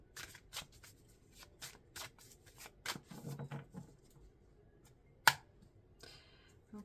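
Tarot deck being shuffled by hand: a run of quick, soft riffling card bursts in steady rhythm, close and fairly quiet, with one sharp snap near the end and no talking.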